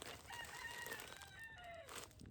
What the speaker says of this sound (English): The roosters know I'm out here, so they're going to be hollering